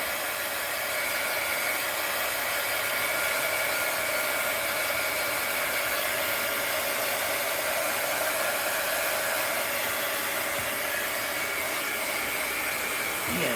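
A hair dryer blows steadily on artwork being dried, a constant loud whirring hiss with a high whine that holds unchanged from start to finish.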